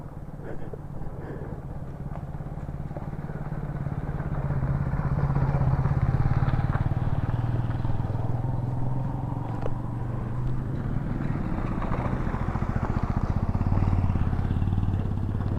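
Motorcycle ridden along a rough, badly broken road between Infanta and General Nakar, engine droning steadily with clatter and thumps from the uneven surface, no talk over it.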